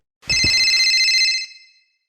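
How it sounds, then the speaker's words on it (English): A phone ring sounds once: a bright, warbling electronic trill lasting just over a second, loud and close, after two soft thumps, then fading quickly. "my phone suddenly rang around approximately 1 in the morning"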